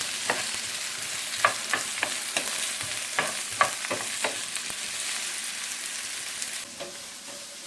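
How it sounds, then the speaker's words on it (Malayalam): Okra (vendakka) frying in a pan, a steady loud sizzle with sharp clicks of a spatula stirring at irregular intervals, close up and with no talking. "നമ്മുടെ വെണ്ടയ്ക്ക ചെറുതായിട്ടൊന്ന് ഫ്രൈ ചെയ്തെടുക്കുവാണ്."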